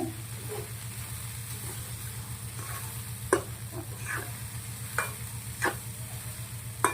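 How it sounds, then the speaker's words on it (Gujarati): A spoon stirs a corn, poha and moong snack mixture in a pan after red chili is added, giving soft scrapes and a few sharp clicks over a low steady hum, with no talk. "થોડુંક એવું લાલ મરચું નાખું છું નાસ્તાને સરસ મજાનો મિક્સ કરી દેવાનો છે"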